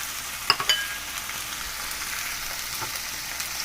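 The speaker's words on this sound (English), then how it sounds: "I'm going to add the shrimp and the tomato." Shrimp and tomato frying in a pan for Thai shrimp with chilies and basil, a low steady sizzle with a couple of sharp clinks from a utensil near the start, no voices.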